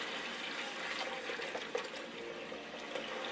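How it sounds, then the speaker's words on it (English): Cold water running into a crock pot full of dried black-eyed peas, a steady continuous splashing pour that stays fairly even throughout, close by and with no voices. "I'm going to fill it up with cold water to about 2 inches over top of the peas."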